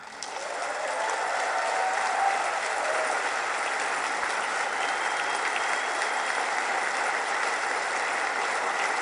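A standing ovation in the U.S. Congress: dense, sustained applause from a large crowd, steady and loud from start to finish with no voices standing out.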